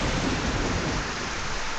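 A thunderstorm in an RPG Maker game gives a continuous loud wash of heavy rain with a deep rumble of thunder running underneath, steady and dense throughout.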